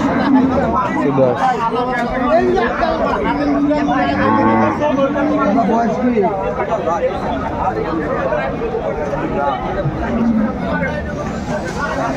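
Cows with calves at Aftabganj cattle market in Dinajpur low now and then amid a steady hubbub of crowd chatter, with nearby voices talking throughout.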